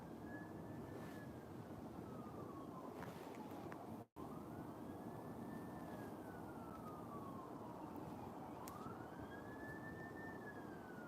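Police car sirens wail past outdoors, the rising and falling tone sweeping by loudly over steady traffic rumble, with a brief dropout in the middle.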